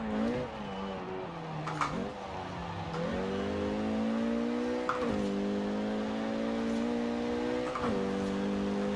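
A Renault Megane R26.R races in Forza Horizon 4, its engine revving hard and steady through repeated upshifts, each gear change briefly dipping the pitch before it climbs again.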